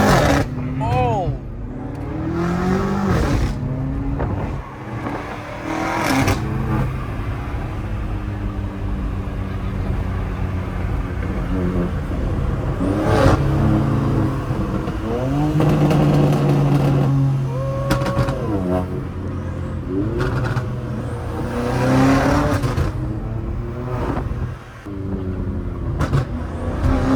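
Loud engine rumble from straight-piped BMW M5, M4 and M3 cars driving through a city, with repeated revs and rising and falling exhaust tones while people talk excitedly over the noise.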